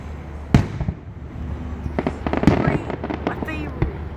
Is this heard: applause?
no